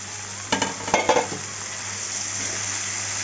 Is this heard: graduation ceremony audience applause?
no